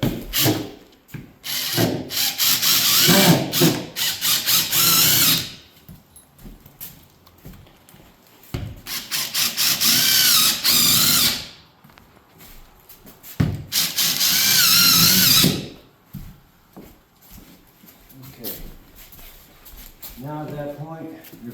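A power drill whirs in several bursts of a few seconds each, driving screws into laminate flooring, separated by quiet gaps and scraping or rubbing sounds.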